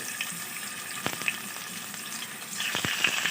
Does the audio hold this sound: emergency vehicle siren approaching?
no